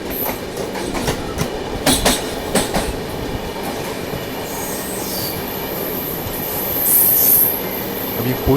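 A passenger train on the Grand Trunk Express route pulls out of Balharshah station, wheels squealing and carriages rumbling in a steady close roar, with brief clatters, thuds and a high metallic screech rising near the end.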